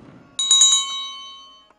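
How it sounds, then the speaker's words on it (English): A bright, metallic bell from the I Spy Spooky Mansion video game rings out in a quick cluster of three or four strikes, then its clear tone rings on and fades over about a second. "A bell."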